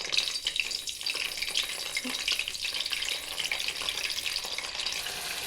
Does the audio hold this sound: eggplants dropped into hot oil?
yes